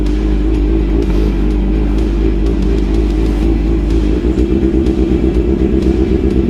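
A Kawasaki ZX superbike, a ZX636 or ZX10R with an SC Project exhaust, riding on an empty road, a loud close deep engine rumble that turns into a rapid pulsing throb toward the end.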